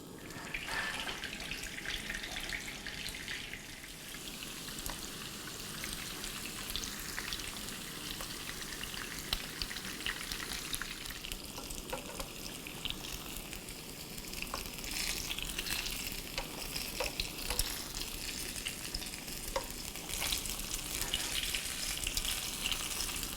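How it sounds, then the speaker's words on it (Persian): Eggplant pieces sizzle in oil in a pan with a soft, continuous crackle and occasional sharper pops, faint and close, with no voices. "یه مقداری من روغن میریزم تو این تابه و بعد بادمجونامو میذارم سرخ بشه"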